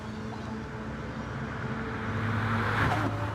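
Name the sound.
racing car engines on Nordschleife, from racing video game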